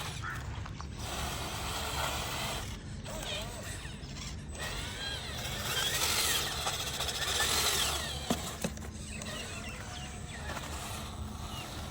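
A Massey Ferguson MF 385 tractor pulls a trolley out of a village field, its engine giving a steady, close rumble under creaking, rattling mechanical clanks from the trolley.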